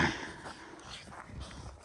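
A Cane Corso dog, a massive breed, gives soft snorts and sniffs at close range, faint and intermittent against quiet indoor background noise.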